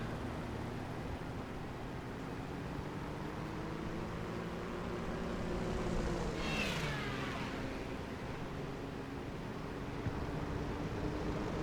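Aircraft engine drone from a fighter plane flying past in a World War II tank battle game, a steady rumble that swells and sweeps with a falling Doppler pitch around the midpoint over constant background noise.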